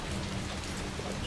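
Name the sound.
heavy rain outside in video game Resident Evil 3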